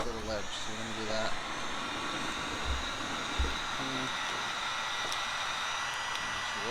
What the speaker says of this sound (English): you're going to get the heat gun and basically just work this in here to this little ledge